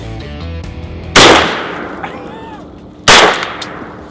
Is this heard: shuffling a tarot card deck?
no